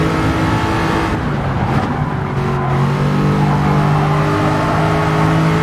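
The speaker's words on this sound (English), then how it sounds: "We're driving the Jaguar for the first time, and the sound of the engine," A Jaguar Group 4 race car in Gran Turismo 7 gives a loud, steady engine drone with layered revving tones. The pitch shifts as the car accelerates, with no talking.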